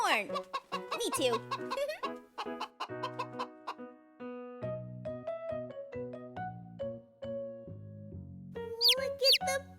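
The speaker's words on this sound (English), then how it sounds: "Look at the baby chickens." Baby chickens at a farm coop cheep and cluck in quick, overlapping bursts close by, with a voice talking over them and more cheeping near the end.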